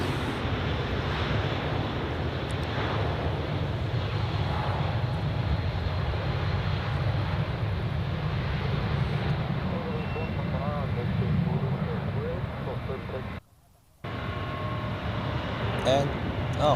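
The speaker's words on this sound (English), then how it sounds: "here we have the A350 accelerating on runway 28." Airbus A350 airliner accelerating down runway 28 at Zurich Airport, a distant, sustained low engine rumble with wind buffeting, while someone talks over it.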